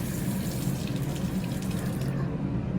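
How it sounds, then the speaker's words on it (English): Water runs steadily from a bathroom tap into a sink during face rinsing, a close, continuous splashing hiss that then eases off slightly near the end, with no voices. "let me rinse my face"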